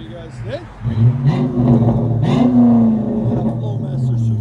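A Dodge Magnum R/T 5.7L HEMI with a Flowmaster Super 10 exhaust revs up and holds a deep, loud rumble over several seconds, with voices talking over the engine noise nearby.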